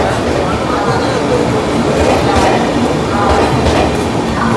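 The Netravati Express rolls into a railway station, its wheels clattering loudly and rhythmically over the rails close by, with a heavy continuous rumble and faint squeals.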